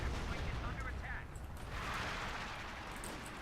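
Artillery fire in a video game battle booms in dense, overlapping blasts, loud and rumbling, with a voice talking over it.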